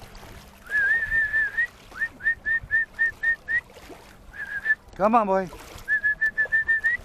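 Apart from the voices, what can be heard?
person whistling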